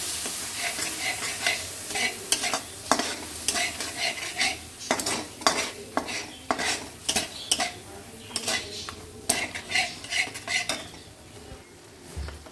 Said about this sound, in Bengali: এবার এটাকে ভালো করে আবার কষাবো।